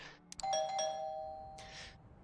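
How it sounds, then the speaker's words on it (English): Doorbell of an occult bookstore in Vampire: The Masquerade, a clear two-tone ding-dong chime that rings once, sustains and fades, framed by a couple of soft clicks and a brief rustle. "You reflect, as you ring the doorbell of the occult bookstore that serves as Agathon's haven."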